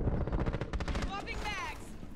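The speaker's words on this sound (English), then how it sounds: "I'm gonna shoot you in the head." A quick burst of close rapid gunfire in Rainbow Six Siege, a run of sharp repeated shots that trails off into ringing, whistling noise.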